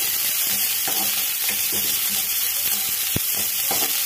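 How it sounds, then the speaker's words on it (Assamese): Onion and chilli sizzle steadily in a pan, with occasional scraping and stirring sounds and one brief knock. "এনেকে অলপ ইখিনি পকি যোৱালৈকে এনেকে অলপমান ভাজি আছো"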